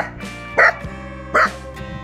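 Dogs bark outdoors in Dambulla, Sri Lanka, giving two sharp, loud barks close by about three-quarters of a second apart, with a low background hum between them.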